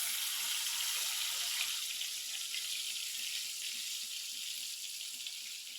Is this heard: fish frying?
yes